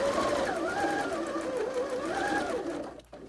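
A sewing machine stitches fabric in a steady, close whirring run for about three seconds, then winds down and stops near the end.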